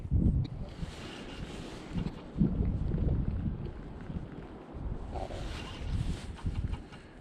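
Wind gusts buffet the microphone outdoors on open water during a bass and crappie fishing outing, a steady low rumble that swells in strong bursts near the start and again toward the end, with no talking.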